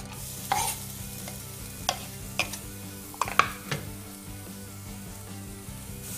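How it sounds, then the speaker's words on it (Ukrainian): Chili sizzles quietly in a hot pan while a utensil stirs and scrapes against it in a few sharp, irregular knocks. "ріжемо чилі і теж на сковорідку"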